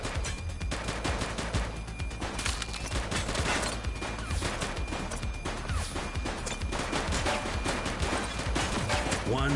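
Sustained gunfire from a police shootout in the video game The Precinct, dense bursts of shots running throughout with shouted voices mixed in.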